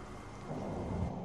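Heavy rain and rumbling thunder on Tallon IV in Metroid Prime form a dense, close, steady wash of downpour with low rolling rumble, no voices.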